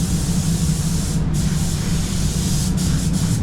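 A spray gun lays a third coat of paint onto the faces of a car panel during a full respray, giving a steady, loud continuous hiss that runs unbroken, with a few brief dips as the trigger eases.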